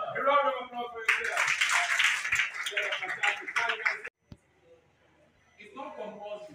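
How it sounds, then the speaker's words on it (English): Audience applause at a school event in an academy hall, a burst of clapping lasting a few seconds between stretches of a speaker's voice, fading into near silence. "A round of applause for you."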